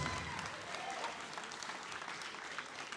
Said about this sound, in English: So another huge round of applause tonight.